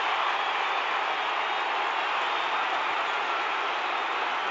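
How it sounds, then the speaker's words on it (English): A dense, steady roar from a huge crowd at an AFL match between Collingwood and Essendon, sustained and loud, blanketing everything with no pauses. "Listen to the crowd."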